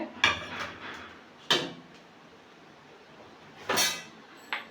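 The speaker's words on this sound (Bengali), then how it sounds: "এদিকে কড়াই বসিয়ে দিয়েছি" A metal kadai set down on a stovetop while cooking lau chingri with prawns, giving a few separate clanks and knocks of cookware spread through a quiet kitchen, fairly close.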